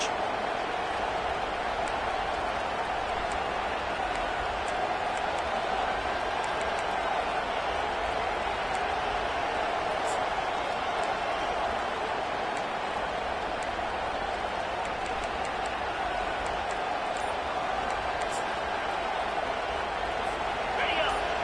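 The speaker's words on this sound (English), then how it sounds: "This crowd busting the decibel meter and trying to will a 4th down stop." A packed football stadium crowd roars loudly and steadily during a 4th-down defensive stand in a Michigan vs Arkansas game, a dense, unbroken wall of far-off cheering noise with no voices standing out.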